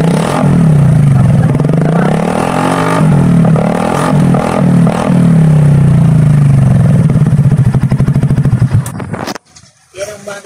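A Honda ADV160 scooter fitted with an Akrapovic M2 muffler and no silencer revs up repeatedly, its loud exhaust rising and falling in pitch over about nine seconds before it cuts off.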